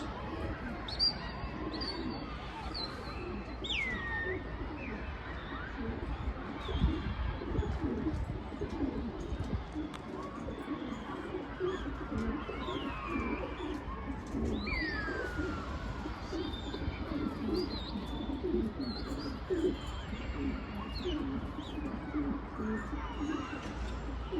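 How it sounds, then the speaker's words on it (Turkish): Domestic pigeons coo softly and repeatedly against an outdoor background while someone talks over them. "Bak güvercinlerimiz arkadaşlar bunlar."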